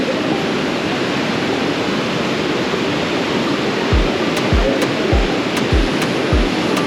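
Broadband rushing water at Adiyanpara Waterfalls in a Nilambur forest, a steady roar throughout with a few low thumps near the end.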